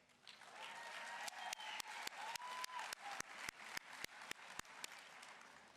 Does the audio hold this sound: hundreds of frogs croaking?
no